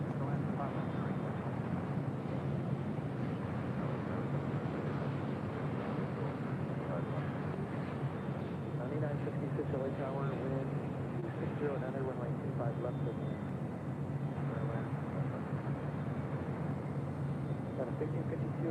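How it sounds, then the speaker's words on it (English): An Asiana Airlines Airbus A350-900 jet lands at LAX with a steady, broad engine roar, a continuous rumble under people talking throughout. "That was Asiana Airlines Flight 204 coming in from Seoul, that A350-900."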